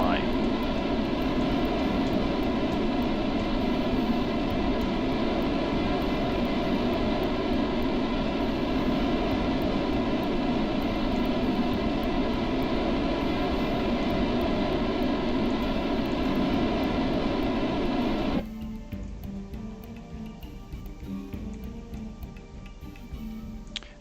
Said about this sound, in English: Those are some noisy, flipping engines